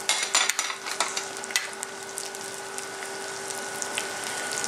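Onion confit with onions and mushrooms being stirred in a pan, clinking and scraping strokes early on, then a steady soft sizzle with faint tonal hum behind.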